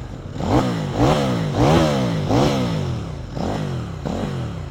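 A CF Moto 800NK motorcycle engine revs several times in quick succession, each rev climbing sharply and falling back, loud and close with a steady idle between.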